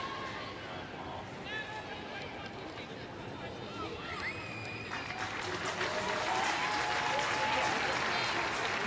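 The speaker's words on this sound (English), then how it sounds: "A round of applause is because Zoe Tolland is back on the park" Stadium crowd at an A-League football match, Adelaide United v Sydney FC, applauds as a player returns to the pitch: a steady, broad wash of distant clapping and crowd hubbub that swells slightly toward the end.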